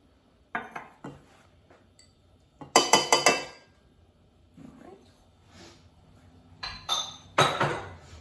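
Sugar and baking soda being mixed in a bowl for a Texas sheet cake, with sharp clinks and scrapes of a utensil against the bowl coming in short clusters between quiet gaps.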